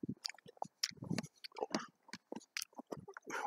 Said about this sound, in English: Chewing Hubba Bubba.